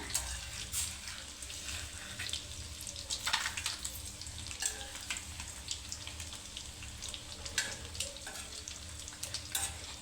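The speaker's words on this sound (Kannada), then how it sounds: "full golden brown colour change ಆಗೋಗಂಟ ಇದನ್ನು ನೀವು ನೀಟಾಗಿ ಫ್ರೈ ಮಾಡ್ಕೋಬೇಕು" Food frying in hot oil until golden brown gives a steady close sizzle with scattered crackles and occasional scraping stirs, no voices over it.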